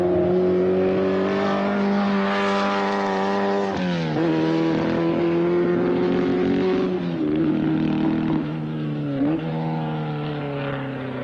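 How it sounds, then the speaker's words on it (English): A Lotus 18, Chapman's first Formula One Grand Prix racing car, runs with a loud, steady engine drone whose pitch rises and dips with gear changes, near and continuous throughout with no talk. "The 18 was Chapman's first Formula One Grand Prix racing car"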